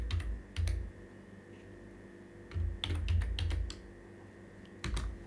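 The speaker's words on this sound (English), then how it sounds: "Now let me begin typing a sentence for you all." Typing on a computer keyboard in WordPad, bursts of close, crisp keystrokes in quick clusters separated by short pauses, with no voices.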